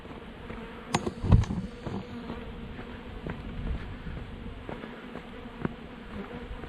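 Wasps buzzing close around a hiker at sand dunes, a low insect drone with brief louder passes as individuals fly near, steady and close throughout.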